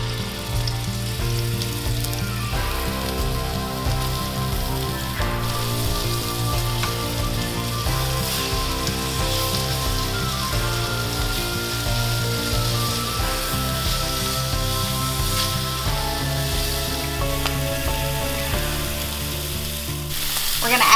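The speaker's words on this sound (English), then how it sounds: "we're going to sear our pork tenderloin" Pork tenderloin sears in hot olive oil in a cast iron skillet, a loud, continuous close-up sizzle and crackle that holds steady for about twenty seconds without any voices.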